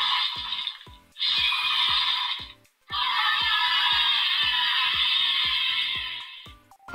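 DX Gavv Gablade toy from Kamen Rider Gavv emitting electronic sound effects: bright, dense synthesized bursts in three blocks, the longest running several seconds, with a steady ticking pulse underneath, loud and close, no talking.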